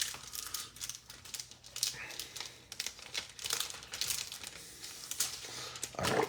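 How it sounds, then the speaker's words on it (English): A sheet of craft foil crinkles and rustles as it is pulled out and handled, with continuous close crackling and a few sharper crumples across the stretch, no voice over it. "I just want to get one of my pieces of foil out."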